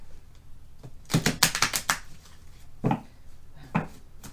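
A flurry of quick, crisp tarot card riffles and taps close by, followed by a few separate soft slaps of cards after a pause.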